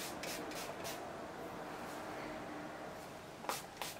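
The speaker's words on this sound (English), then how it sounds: "So I'm just going to spray the water to move everything out of my face" Quick bursts of spray from a hand spray bottle misting water onto a body wave wig, a couple of short hissing puffs near the end over faint rubbing and handling noise close by.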